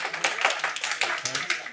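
Students in a lecture hall applauding their classmates, a steady patter of many overlapping claps, close and moderately loud throughout, with a few voices mixed in.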